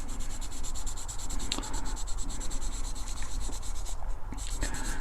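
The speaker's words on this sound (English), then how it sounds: "we'll just give that a bit of a light sanding" Steady, light rubbing of sandpaper on a Dinky 259 Fire Engine toy model during restoration, with a brisk back-and-forth rhythm, close up and continuous, no voices.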